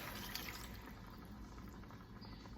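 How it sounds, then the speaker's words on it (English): Water runs steadily from a kitchen tap to rinse out a slow cooker pot used for a pot roast, a continuous close splashing flow filling the vessel with no talk. "I'm gonna get a little bit of water to rinse this out"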